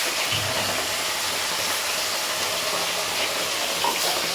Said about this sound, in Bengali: এবার আমি মাছগুলো দিয়ে দেবো, এক এক করে মাছগুলো দিয়ে দেবো ভাজার জন্য।